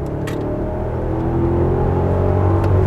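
A BMW X6 50i (F16) with its twin-turbo V8 accelerates in sport mode, a steady, loud low engine drone that swells gradually with no talking over it.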